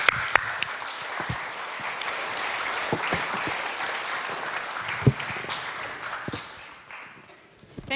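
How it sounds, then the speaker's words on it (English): An audience at the GovTech Baltic Leaders 2022 conference applauds a panel, a steady spread of many hands clapping in a hall with a few sharper, nearer claps. "Let's leave our panel with some applause"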